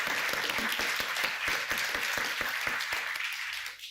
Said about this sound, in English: So I'd ask you to give them all a great round of applause.